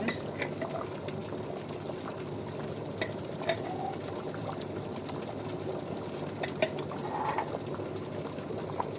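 Canned vegetable preserve is stirred in a pot, giving a steady wet bubbling and sloshing texture with a few faint clinks against the pot, with no talk.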